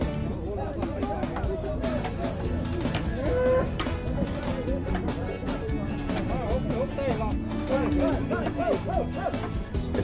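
Cattle mooing amid crowd chatter as a Nelore bull and crossbred calves come down off a truck at an animal unloading in Tabira, Pernambuco; continuous busy noise with repeated calls throughout.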